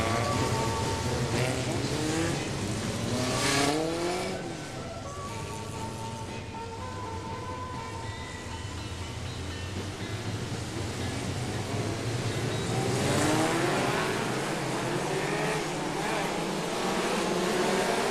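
A pack of BriSCA F2 stock cars races at the 1996 World Final, and their engines drone loud and continuous as several motors rise and fall in pitch together through the pass.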